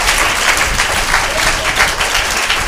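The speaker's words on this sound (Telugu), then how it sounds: "గట్టిగా స్తోత్రం చెప్పి చప్పట్లు కొట్టి ప్రభుని మహిమపరచండి." A church congregation claps loudly in praise during a service, a continuous, dense roar of many hands clapping together with some crowd voices mixed in.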